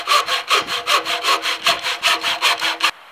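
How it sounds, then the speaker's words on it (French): A hand saw cuts through wooden blocks being made into shims for fixing a gutter, with about a dozen brisk, evenly spaced rasping strokes, close and loud, before it suddenly stops. "Une fois que la lame a bien commencé à couper, elle est guidée, on est droit, on peut y aller un peu plus franchement."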